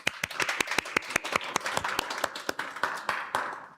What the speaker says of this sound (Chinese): 我们拍手来欢迎婕妤执事